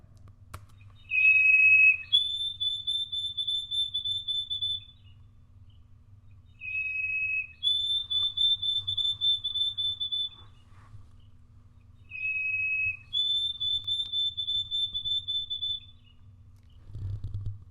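Songbird phrases repeat three times, each a short lower note followed by a sustained, bright whistled trill, separated by pauses, clear and fairly close over a steady low background hum.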